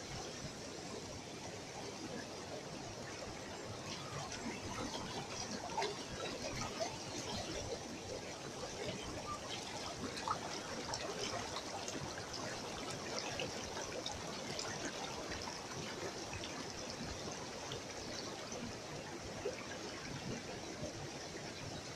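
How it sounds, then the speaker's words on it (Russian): A mountain stream swollen after rain rushes steadily, a constant low roar of flowing water with no pauses, fairly soft and unbroken throughout. "После дождей, конечно, поток страшный здесь."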